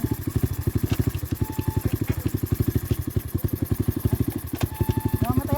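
A motorcycle engine idles close by with a fast, even, low thumping pulse that stays steady throughout, with brief voices faint in the background.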